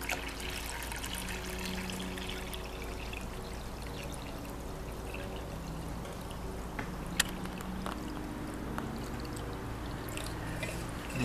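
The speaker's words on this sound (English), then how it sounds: "What I like to do next is fill the bowl as completely as I can with water." Water pours steadily into a blue plastic gold-panning bowl used for processing gold concentrates, a continuous close splashing stream with no talk over it.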